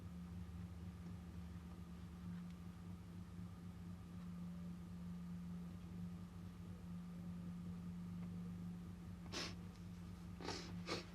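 Two or three quick nasal sniffs from a person with a cold near the end, over a steady low hum and faint background noise.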